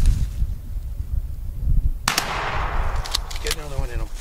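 A single loud gunshot cracks out during a turkey hunt outdoors, following a stretch of low rumbling background, and a broadband burst lingers as it echoes away.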